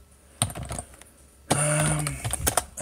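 Typing on a computer keyboard, a short clatter of keystrokes followed by a longer, louder run of rapid close clicks.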